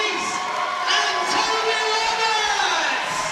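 A crowd cheers and shouts continuously at a climbing championship final, a dense sustained roar that swells slightly midway, loud and enveloping.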